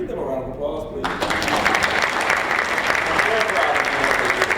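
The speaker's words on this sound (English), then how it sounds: "Give them a round of applause, please." Audience applause at a community diversity event, a burst of clapping that starts abruptly and fills the room steadily to the end, with some speech mixed in before it rises.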